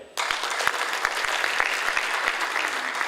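Audience applause at a graduation ceremony in Lira, a dense, steady burst of many hands clapping that starts abruptly and carries on evenly, loud and close, with a few low thumps beneath.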